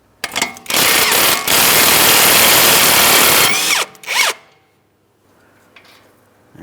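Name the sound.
power tool removing 18mm tie rod end mounting nut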